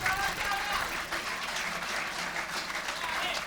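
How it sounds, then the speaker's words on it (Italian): Steady audience applause at a volleyball awards gala honoring players called up to the national team, a dense crowd of clapping heard at moderate distance throughout, without a break. "Quindi farei per loro un grosso applauso."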